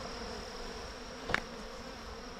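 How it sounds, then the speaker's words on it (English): Bees buzz close around a person outdoors, a steady droning hum with one brief louder pass as a bee flies right by, no talk. "because I'm starting to get bees all over me"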